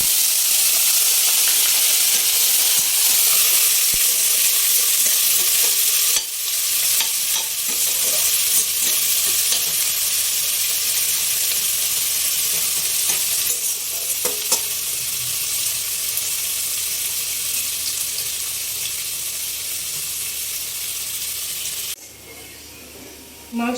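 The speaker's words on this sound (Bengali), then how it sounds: "পেঁয়াজগুলো প্রথমে আমি ভেজে নেব" Onions frying in hot oil in a wok (kadai) for chicken biryani, a loud, continuous sizzle with scraping stirring strokes throughout, the hiss shifting in intensity as the pieces are moved around.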